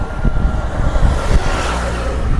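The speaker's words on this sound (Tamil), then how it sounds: "இதுதான் அந்த மதவு பகுதி. தண்ணி எல்லாமே வந்து ஓடிக்கொண்டிருக்குது." Sea water rushes steadily through a shallow coastal channel near an island shore, a continuous broadband wash with low rumble and some wind buffeting, no speech.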